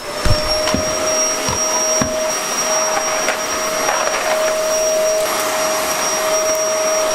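A household vacuum cleaner runs continuously at close range during cleaning, a loud steady whine and roar with a few small knocks and bumps as it moves.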